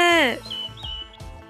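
A sparrow chirps in a children's cartoon story, giving a quick high tweet amid voiced cartoon dialogue that runs under and around it.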